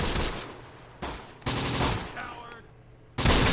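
Bursts of gunfire ring out in a Close Combat battle in North Africa, with loud, abrupt volleys that start sharply, decay into rattling echoes and are followed by a renewed burst at the end.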